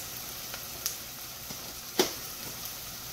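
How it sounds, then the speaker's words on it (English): Onions and garlic sauté quickly in a pan, a faint steady sizzle with a few soft clicks and one sharper tap, no voices. "I'm gonna saute my onions and my garlic, which I'm doing right now, and it's cooking very quickly"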